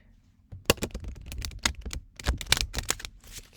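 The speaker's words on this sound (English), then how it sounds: "let me do the grand final shuffle here" A deck of playing cards is shuffled by hand in a burst of quick, crisp riffling clicks and snaps, close up, after a brief quiet start.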